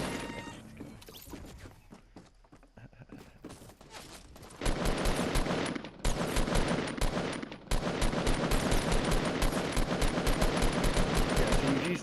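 Minigun firing in a video game, a loud sustained rapid-fire roar that starts midway and runs almost continuously to the end with a brief break, after a quieter stretch of scattered game noise and speech.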